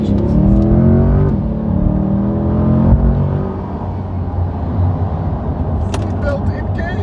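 A Chevrolet C8 Corvette's engine revs loudly and close, rising and falling in pitch for a few seconds before settling into a steady, rumbling idle.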